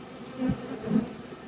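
Honey bees buzz close by at an open hive during varroa treatment, a steady hum with two brief louder swells as individual bees pass near.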